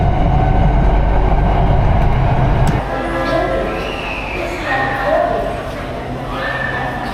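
A Saigon MRT metro train rolls along with a steady rumble that drops as it slows, with faint tonal squeals and hums from the cars.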